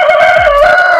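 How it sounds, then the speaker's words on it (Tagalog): A rooster of the Hubbard breed crows once at close range, a loud sustained call that holds steady for about a second. "Ito yung ating tandang."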